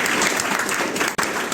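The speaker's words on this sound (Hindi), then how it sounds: "एक बार जोरदार तालियां बज" Loud, dense applause fills a Hindi comic poetry gathering (hasya kavi sammelan), a steady wash of many hands from a large audience with one brief dip near the end.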